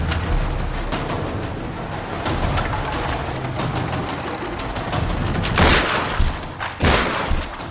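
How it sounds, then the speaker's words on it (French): Shotgun fire in the Tomb Raider video game over a dense, loud battle din, with two sharp, heavy blasts standing out near the end. "je prépare mon fusil à pompe"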